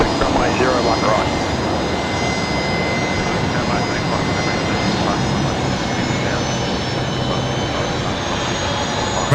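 A Boeing 737-800 freighter operating for Qantas Freight at Brisbane airport, its steady jet engine roar filling the whole stretch at close range, continuous and loud with little change, while a voice talks faintly underneath.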